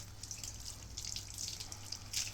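Tap water at medium temperature runs steadily while rinsing a dog during a bath, a continuous close hiss with light dripping and splashing over a low hum, no voices.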